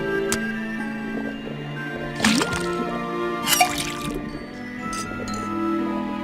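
A faucet drips water in the Detective Grimoire video game: a few soft liquid drips and clinks over a steady hum of game music, with brief splashy bursts in between.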